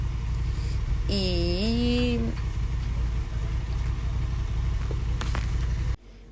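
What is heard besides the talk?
motorcycle engine running nearby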